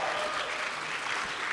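A theatre audience at a book-club stage show claps in a steady, fairly distant wash of applause that holds evenly throughout without breaks.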